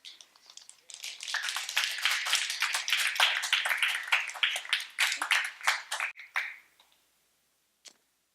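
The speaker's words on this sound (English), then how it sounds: "give Amy another round of applause" An audience claps for a woman named Amy after a church talk, a dense, sustained round of applause that builds quickly, holds for several seconds, then thins out to a few scattered claps.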